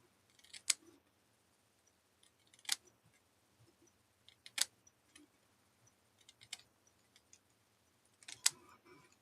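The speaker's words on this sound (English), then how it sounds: "we're just going to trim down the center" Scissors trim a strip of ribbon down the center for a bow, giving about five quiet, separate snips spread over several seconds in a quiet room with no talking.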